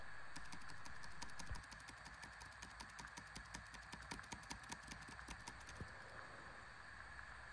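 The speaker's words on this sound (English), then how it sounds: "Now I'm tapping Enter and F1 both together." Keys on a Lenovo ThinkPad laptop tapped repeatedly, the Enter and F1 keys pressed together, give a fast, even run of light plastic clicks over a steady fan-like hum, close to the microphone.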